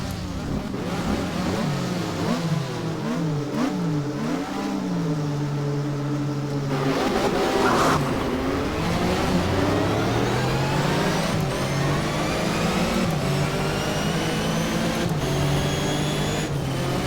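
A race car engine in a Porsche Supercup racing video game revs and climbs through the gears, pitch rising and dropping with each shift, loud and continuous throughout with no talking.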